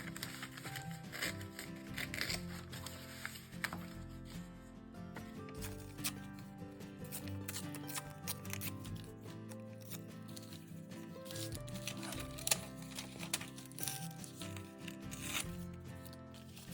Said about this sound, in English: I'm going to spend a few minutes just tearing up some of these envelopes and making more scraps